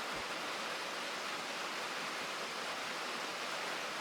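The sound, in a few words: water filling a steam locomotive boiler in the video game Derail Valley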